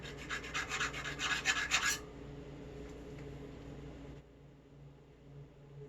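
A metal bicycle frame seat tube on a Priority Joker bike is deburred by hand, with quick rhythmic rasping strokes for about two seconds, followed by a quiet, low room hum.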